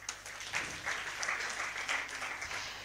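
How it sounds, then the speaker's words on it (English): A university summit audience claps in a sustained, fairly dense round of applause that rises and falls slightly and continues throughout, with no speech heard. "A round of applause for him again."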